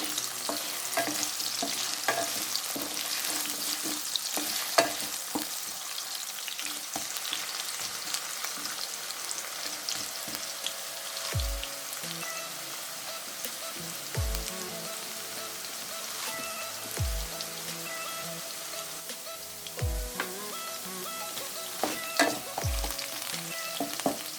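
Mixed vegetables and potatoes fry in a pan for a Marathi mixed vegetable bhaji, giving a steady, close crackling sizzle throughout, with soft stirring and a few dull low knocks of a spoon against the pan.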